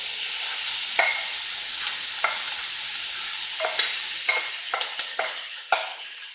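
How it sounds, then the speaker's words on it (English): Onions, poblano pepper, celery and garlic hitting a hot roux for Cajun chicken sauce piquant, a bright sustained sizzle broken by several sharp stirring scrapes toward the end. "And so to this, I'm adding in my onions, my poblano, my celery,"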